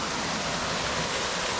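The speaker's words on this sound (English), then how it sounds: "not the biggest waterfall around, not by any means" Waitui Falls, a small waterfall feeding a clear swimming hole in NSW, gives a steady, loud rushing roar of falling water with no other sounds.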